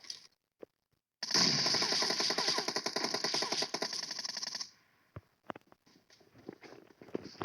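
Rapid automatic gunfire in a video game, a dense burst of fast clattering shots lasting about three seconds, then a few scattered isolated cracks and clicks against near silence.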